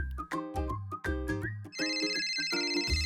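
A mobile phone rings with a bright, repeating melodic ringtone, loud and close, cycling through its tune several times with no talking over it.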